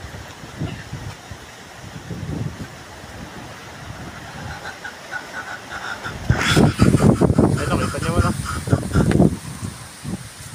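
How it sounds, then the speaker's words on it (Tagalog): Strong gusting wind with light rain during a storm, a low rushing roar that swells sharply partway through, with someone talking briefly over it. "Pabugso-bugso po yung ulan, tsaka hangin"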